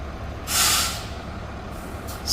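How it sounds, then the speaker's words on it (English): Hazmat truck's air brakes release a loud hissing burst, followed by a shorter hiss at the end over a low idling rumble. "This is the hazmat truck"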